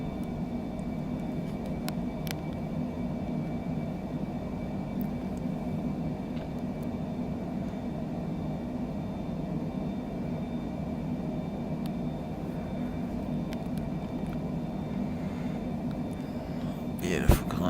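A simulated airliner engine holds a steady, even drone through the climb-out after takeoff in Microsoft Flight Simulator, with a brief knock near the end.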